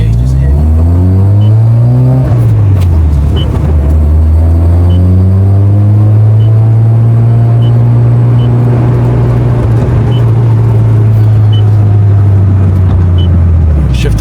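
A 1997 Mazda FD RX7 rotary engine idles, then is revved up and eased back before settling into a steady, loud drone close by, with a smooth buzzing tone and no talk.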